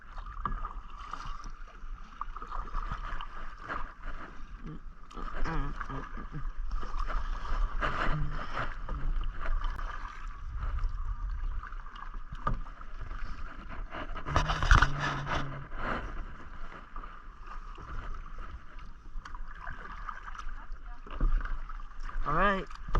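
A kayak is paddled through the mangroves of Sarasota, Florida, with rhythmic paddle splashes, water dripping and hull scrapes close by, and people talking intermittently.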